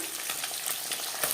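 Soft pabda fish sizzling in hot oil in a pan, a brief, loud, steady crackling hiss with no voices.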